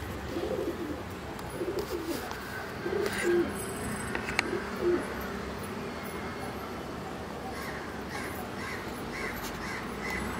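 Pigeons coo in low, soft repeated phrases against a busy outdoor background. Sharper calls that may be crows break in now and then, and faint voices mingle through the steady ambient noise.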